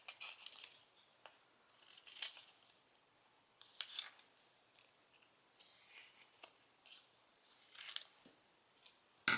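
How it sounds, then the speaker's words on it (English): Scissors trim adhesive sheet backing paper to size in a quiet room, giving a series of faint, crisp snips and paper rustles spread irregularly through the clip, close to the ear. "I'll trim this out to size"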